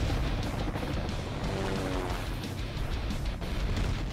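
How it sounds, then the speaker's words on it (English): Explosions destroy a town in the helicopter video game Thunder Wolves, a dense continuous roar of blasts and crashing debris filling the whole stretch. "Explosion everywhere. The whole town or city getting destroyed."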